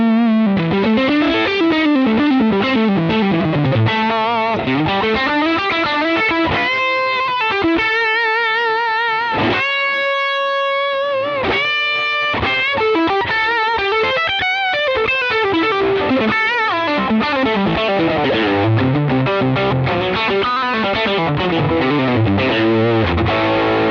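Distorted electric guitar through a Tonex capture of a Universal Audio Enigmatic, a continuous loud run of riffs and sustained lead notes, close and played with no talking.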